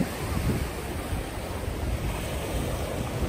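Steady wind buffets the microphone on a beach on Ukulhas island, a constant roar with surf washing underneath throughout, no voices.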